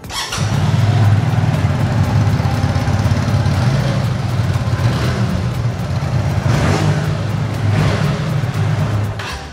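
A Hyosung Korean motorcycle engine runs loud and close, its throaty rumble rising and falling through a few throttle blips and revs, with no talking.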